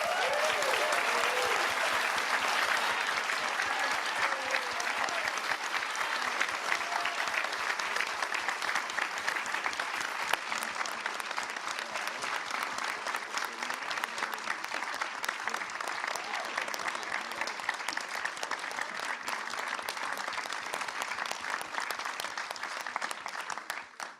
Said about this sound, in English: I'm going to stand here and keep clapping.